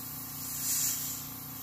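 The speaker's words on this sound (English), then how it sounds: "we're going to add this Wicked Colors fluorescent yellow. Turned our air down." An airbrush, with its air pressure turned down, sprays Wicked Colors fluorescent yellow paint onto a fishing lure as a soft steady hiss that swells briefly mid-way and then settles back.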